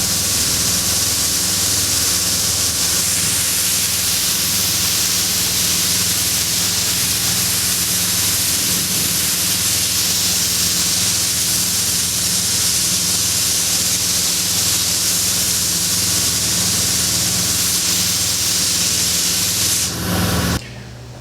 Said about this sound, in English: sprayed the hull sides with 2 coats of the base color